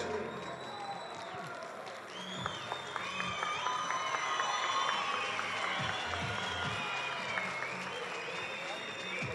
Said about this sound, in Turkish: Çok güçlü alkışlar kendisi için.